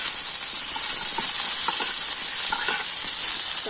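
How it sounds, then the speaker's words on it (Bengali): Chopped vegetables fry in oil without salt yet, a loud, dense, unbroken hiss of sizzling close up with a few faint stirring knocks underneath and no talking. "আর এই সবজিগুলো তো আমি তেলের মধ্যে একটু ভেজে নিচ্ছি।"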